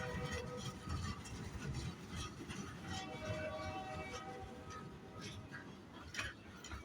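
A long BNSF freight train rolls steadily past nearby, a dense continuous rumble of railcars and wheels with faint squeals and clanks throughout.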